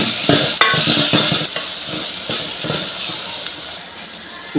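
A spoon scrapes and stirs vegetable curry in a frying pan over a soft background sizzle, with several sharp clanks against the metal early on that then settle into quieter, steady mixing.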